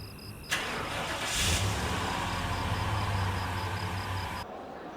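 A car engine catches and settles into a steady mid-pitched running hum, close and fairly loud, with no voices.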